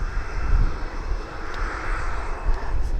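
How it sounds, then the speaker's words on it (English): A Boeing 747 airliner takes off at East Midlands Airport, its engines a loud continuous roar with a broad rumbling swell and no pauses. "we should see that 747 takeoff"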